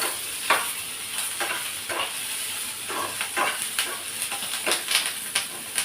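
Onions and garlic fry lightly in a pan with a soft, continuous sizzle, broken by repeated scrapes and taps of a spoon stirring them.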